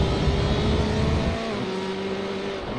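Race cars in iRacing's GTE league at Interlagos, a loud sustained engine roar with a steady whine that drops in pitch and volume partway through as a car passes and pulls away downhill.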